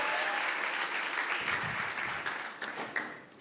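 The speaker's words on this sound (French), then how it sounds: "On peut l'applaudir." Audience applauding a candidate at an MT180 thesis presentation event, a steady, dense wash of clapping that holds for several seconds, with a few sharper individual claps near the end.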